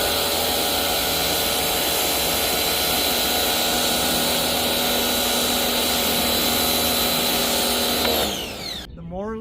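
A repaired electric pressure washer runs steadily with a loud, dense motor and pump whine for about eight seconds, then cuts off and winds down abruptly near the end.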